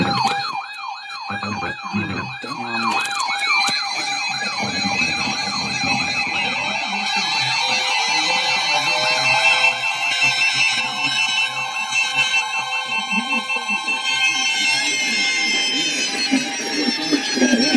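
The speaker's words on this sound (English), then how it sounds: "I think that might have actually been one of the most distorted EAS relays I've ever heard." Distorted Emergency Alert System relay of a severe thunderstorm warning: harsh, warbling alert tones sweep and pulse continuously, loud and crackly throughout with heavy distortion, and no speech over them.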